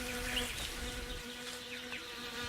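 Flies buzz around a lifeless body in a steady, close insect drone with faint passing whines, continuous and unbroken, with no voices.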